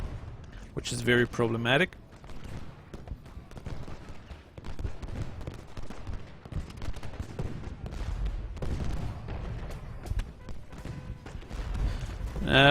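Union artillery in the Ultimate General: Gettysburg video game booms as low, muffled thuds and rumbling volleys scattered through the battle, mostly beneath someone talking.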